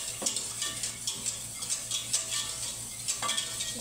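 A spoon scrapes and taps around a metal pot of boiling milk in quick, uneven strokes, with faint bubbling underneath.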